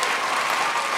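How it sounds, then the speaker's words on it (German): Audience applause at a church gathering, a brief, dense burst of many hands clapping at constant loudness. "Lass uns Tamara nochmals einen Applaus geben"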